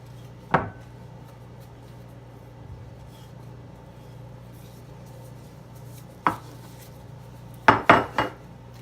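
Spices being mixed with mustard in a bowl: a sharp utensil clink on the bowl near the start, another after a long quiet stretch, then a quick cluster of three clinks at the end, over a low steady hum.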